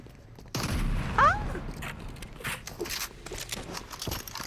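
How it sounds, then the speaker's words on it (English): Video game gunfire that breaks out suddenly as a loud burst of shots, then continues as scattered, fainter reports and clatter. "Who's shooting at me?"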